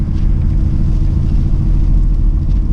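Camaro SS 1LE on Continental DWS 06 tires rolling through snow, a continuous deep engine rumble and road roar, loud and steady with no break.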